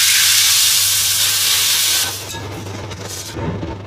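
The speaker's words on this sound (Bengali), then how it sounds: "ভালো করে গুলে নিয়ে তারপরে এই তেলের মধ্যে ছেড়ে দেবো।" A paste of chili, turmeric, cumin and salt hits hot oil with a bay leaf in it, giving a loud, steady hiss that drops to a softer, crackling sizzle after about two seconds.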